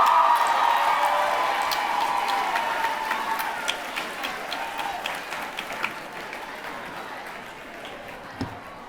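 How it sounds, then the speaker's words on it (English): Applause from a crowd at a high school graduation ceremony, a dense sustained wash of clapping that is loudest at the start and gradually thins and fades over several seconds. "Can we give another round of applause to the leader of our city"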